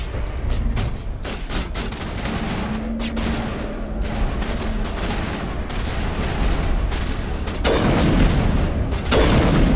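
Rapid bursts of gunfire in the video game Mass Effect Legendary Edition, dense repeated shots over a loud rumbling battle bed with a brief mechanical hum, continuous throughout.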